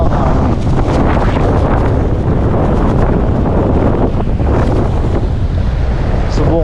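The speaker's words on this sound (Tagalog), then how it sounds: "Lakas ng hangin." Strong wind buffets the microphone at a waterside channel mouth where people fish, a continuous loud roar of gusts over surf and lapping water with no talking.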